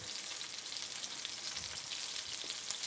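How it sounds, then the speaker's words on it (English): A stewed Cajun chicken pot with rice, brought back up to a boil, gives off a steady close hiss and sizzle with a few soft low knocks as it is stirred. "You're going to give it a quick stir."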